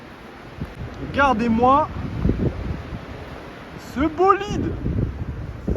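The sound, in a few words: wind blowing outdoors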